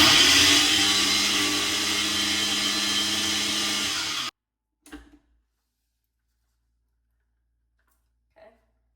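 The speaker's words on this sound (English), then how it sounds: "And then we're gonna grind it into a fine powder to sprinkle" An electric grinder whirs loudly and steadily for about four seconds as eggshells are ground into fine powder, then cuts off abruptly, leaving a few faint clicks and knocks.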